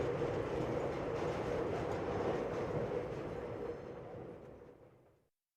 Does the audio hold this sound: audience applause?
no